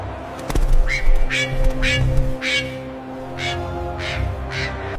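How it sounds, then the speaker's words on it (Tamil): A hoopoe calls in a series of short, clear hooting notes, repeated at a steady pace over a low background hum. "ஹுத் ஹுத் பறவை திரும்ப வந்துருச்சு."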